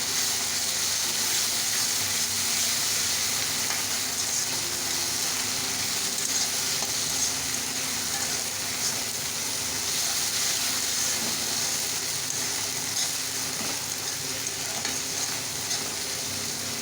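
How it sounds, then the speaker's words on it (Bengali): Onion and garlic paste frying in a pan over browned onions for a mutton curry, a continuous bright sizzle with bubbling and occasional stirring, close and steady throughout. "পেঁয়াজ রসুনের পেস্টটা দিয়ে দিচ্ছি এগুলো একটু ভেজে নেবো আবার"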